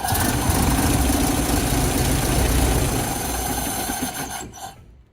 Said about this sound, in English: The top one was flashing and the engine runs.